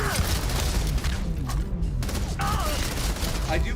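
Gunfire from a weapon in the sci-fi game Starfield, a dense run of shots and booms repeating steadily across the clip, loud and close amid busy game effects.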